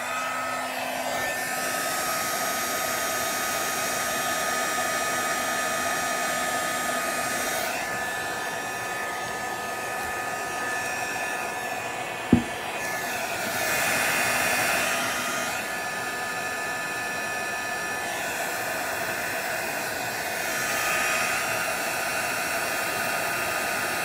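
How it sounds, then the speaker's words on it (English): A heat gun drying watercolor paint in a journal blows with a steady, loud whooshing hum that runs unbroken throughout, its airflow swelling slightly at times, with one sharp click near the middle and no voices. "you can come in and you can make it dry with the heat gun"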